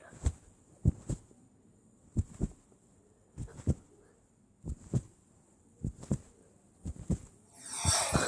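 A heartbeat in a video game thumps in paired, evenly spaced beats, low and muffled, repeating several times with a faint hum underneath and a brief rushing noise at the end.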